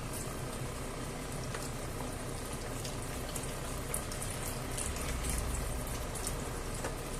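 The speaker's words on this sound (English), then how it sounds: "I'll just cover it all with this meat and veg broth." Meat and vegetable broth pours over rice in a pan, making a steady close bubbling, gurgling wash of liquid that runs throughout without speech.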